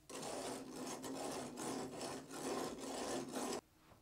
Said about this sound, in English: Strike off excess concrete with the strike-off bar.